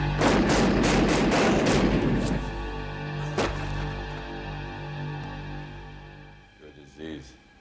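Gunshots from the 1986 action film Cobra: a rapid volley of loud, close shots for about two seconds, then a single sharp shot with ringing decay, ending with a shouted voice.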